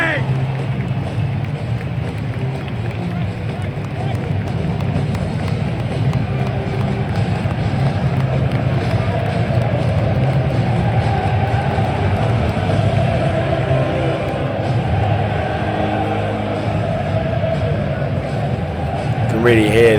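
Football stadium crowd before kick-off, a dense, steady roar of many voices and general hubbub, continuous and enveloping for the whole stretch, swelling slightly with no single voice standing out.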